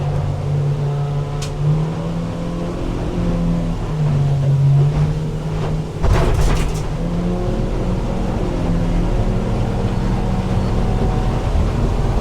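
A 2005 Rogue 20 ft boat runs under a Yamaha 75 outboard, the engine holding a steady loud drone with slight pitch shifts, a brief knock and splash near the middle, and no talking.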